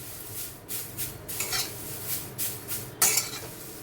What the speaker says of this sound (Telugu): చూడండి ఫ్రెండ్స్, ఆకులన్నీ బాగా వేగిపోయాయి. చూసారా, గల సౌండ్ వస్తుంది